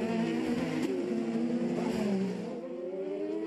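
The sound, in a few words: IndyCar Napa Honda turbo engine bogging off the corner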